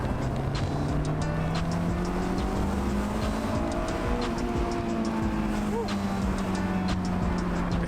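A convertible sports car accelerates hard in second gear along country roads, its engine note rising steadily in a continuous loud roar with wind rush, no speech over it.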